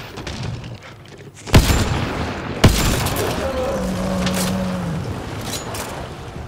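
Two sharp, loud gunshots ring out in quick succession in the video game Mass Effect: Andromeda, followed by a lingering rumble and faint electronic tones.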